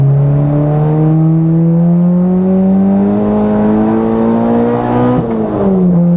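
A Volkswagen Jetta accelerating hard on the Bonneville salt flats, a loud engine whine climbing steadily in pitch, then dropping sharply at a gear change before rising again, heard close from inside with no talking.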